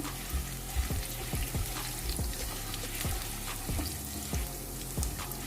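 Chicken for chicken do piaza browning in a pan on a low flame gives a steady close sizzle, broken by soft scraping knocks as it is stirred.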